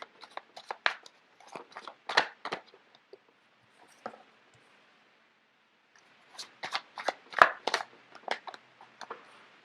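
Tarot cards being shuffled and handled close up, bursts of crisp riffling and slapping, a pause of near silence in the middle, then another flurry of shuffling.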